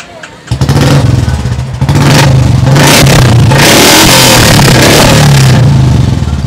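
An old Royal Enfield Bullet motorcycle engine starts and runs loud and close, a deep throbbing thump that revs up and keeps idling roughly.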